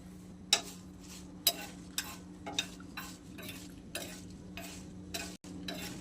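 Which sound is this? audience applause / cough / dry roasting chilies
dry roasting chilies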